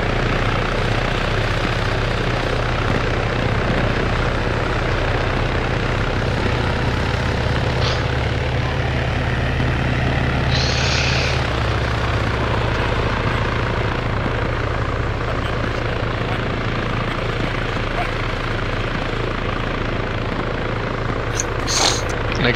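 A military helicopter in the video game ARMA 3 flies under fire, its engine and rotor roar steady, loud and continuous throughout, with faint gunfire-like ticks near the end and no speech.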